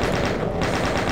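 Chaingunner enemies fire chainguns in Doom, a dense rapid stream of loud mechanical gunshots with no pause.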